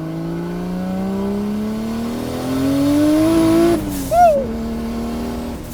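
A 650 hp Nissan 300ZX street car with a swapped RB26 engine accelerates hard, its rising engine note climbing steadily for several seconds before a gear change and a brief burst, then pulling on, heard close from inside.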